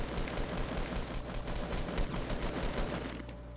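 Rapid automatic gunfire rattles continuously in the Fortnite battle royale game, a dense steady stream of shots at moderate loudness.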